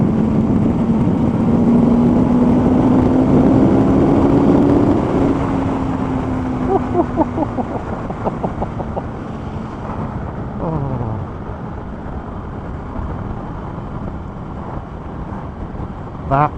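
A superbike on a commute at national speed limit roars and slowly falls in pitch under heavy wind buffeting, then drops through quick gear changes into a rough idle-like burble, loud and close throughout.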